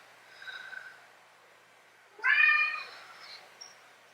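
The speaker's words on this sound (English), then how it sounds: "The cat is being very talkative today." A talkative cat meows indoors during a makeup session: a faint, short mew comes first, followed a moment later by a louder, drawn-out meow close by, with no talking over it.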